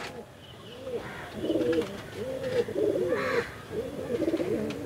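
A male Chennai-breed pigeon coos in a loft, giving a series of soft rolling coos in repeated bursts, close and moderately loud, with faint background noise.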